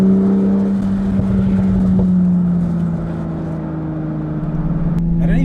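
The engine of a 2019 BMW Z4 M40i drones steadily and loudly while driving around Cape Town, a continuous low hum with a slight dip in pitch partway through and no pauses.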